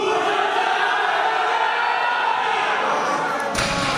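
A crowd at a Sardinian powerlifting championship cheers loudly for a lifter making a 260 kg attempt, with a broad, sustained roar and a sharp thump near the end. An announcer talks over the noise.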